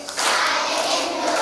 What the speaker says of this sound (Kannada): ತಟ್ಟು ಚಪ್ಪಾಳೆ ಅಂತ ಹೇಳುವಾಗ ನೀವೆಲ್ಲರೂ ಚಪ್ಪಾಳೆ ತಟ್ಟಿ ತಟ್ಟು ಚಪ್ಪಾಳೆ ಅಂತ ಹೇಳ್ಬೇಕು